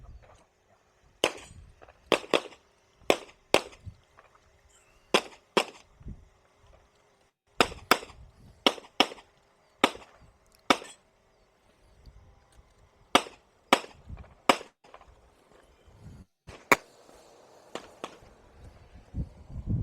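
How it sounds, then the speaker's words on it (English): A competitor fires at far steel targets at a shooting match, producing sharp, distant-sounding cracks in quick pairs and short strings, separated by brief pauses, with faint background noise between shots. "Looks like he's shooting at the far steel."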